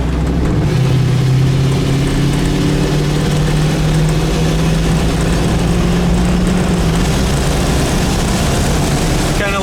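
A 1964 Buick Wildcat convertible's engine drones loud and steady from inside the car while driving, with a low hum that slowly rises in pitch along with road and wind noise.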